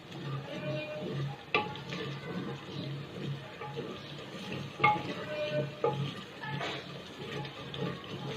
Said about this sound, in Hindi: मसाले डालकर भी तकरीबन 5 मिनट हम इसे पकाएंगे।